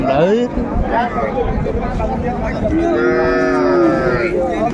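Cows with calves at the Ambari cattle market in Dinajpur: loud, drawn-out moos sound close by, one long low call rising toward the end, over steady crowd chatter and market noise.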